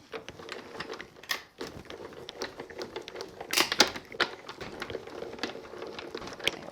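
A crafting die-cutting machine grinds a taped die frame through with irregular clicking, crunching and rattling pressure noises, fairly quiet and close, with no talk over it.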